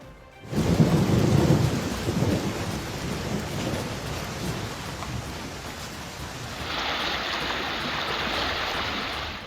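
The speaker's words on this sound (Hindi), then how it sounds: "असम से लेकर मणिपुर और दूसरे तमाम इलाकों में भारी बारिश हो रही है।" Heavy monsoon rain pours down amid a thunderstorm during flooding in Assam, a loud rumble of thunder rolling under the dense, steady hiss of rainfall, with the downpour brightening and intensifying toward the end.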